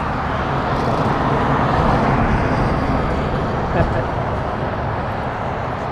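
Dense road traffic passing in a lunch rush hour, a steady loud roar of cars and heavier vehicles nearby with constant wind-like rumble and no clear pauses.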